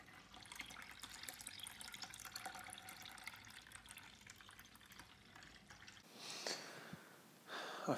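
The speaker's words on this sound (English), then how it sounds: "I find siphoning amazing." Home-brewed beer is siphoned through a tube, giving a continuous soft trickle and splash of liquid for several seconds before it thins out, followed by a couple of faint gurgles near the end.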